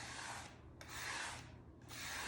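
House paint is scraped across a painting in three long, quiet rasping strokes with short pauses between them. Each stroke is a close, soft, broadband rubbing sound.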